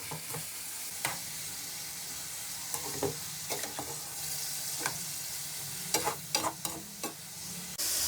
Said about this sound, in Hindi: इसको हम तब तक फ्राई करेंगे जब तक इसका कलर चेंज ना हो जाए